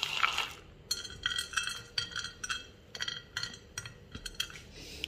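Small pieces of chopped cashew dropped into an oiled metal tray, giving a run of light, bright clinks and ticks in quick irregular succession, close and fairly soft with no voices.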